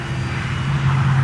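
An RC electric ducted fan jet model airplane flies at a club flying day, giving a steady, fairly loud droning hum that swells slightly toward the end, with no talking.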